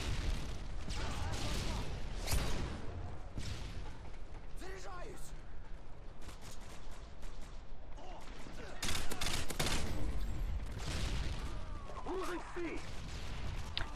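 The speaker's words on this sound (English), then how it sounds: "I was hearing a lot of enemy and teammate fire into that little tunnel" Scattered enemy and teammate gunfire in Modern Warfare 2 during a Domination match on Sub Base, mid-distance bursts spread through the clip with louder volleys near the end, layered over game ambience and occasional voice chatter.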